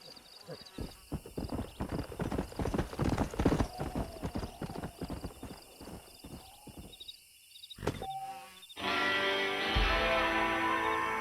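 A horse's hooves clop in a brisk, steady rhythm on hard ground in the Red Dead Redemption video game, with a whinny and voices talking over the hoofbeats before a louder noisy wash takes over.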